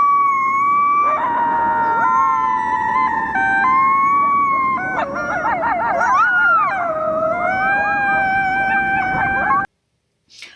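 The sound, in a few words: recorded howl of two coyotes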